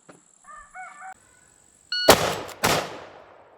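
Two quick, loud rifle shots from a .348 fired about half a second apart, each a sharp close crack with a ringing tail, preceded by a few short electronic beeps from a shot timer.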